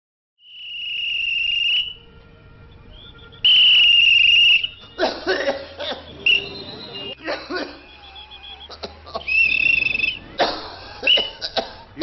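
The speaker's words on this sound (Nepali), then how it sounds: "यो मान्छेले यसरी लगातार खोक्न थाल्नुमा कति भयो?" A man coughs again and again in a long harsh fit, loud bursts following one another closely over a steady background of chirping crickets.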